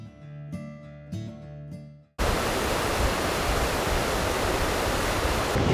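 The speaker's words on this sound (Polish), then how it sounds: "tutaj mamy bardzo dużo fajnych punktów widokowych na wodospady" The waterfalls of Yellowstone's Grand Canyon roar as a loud, continuous broadband rush. It begins suddenly after a few seconds of unrelated tonal music.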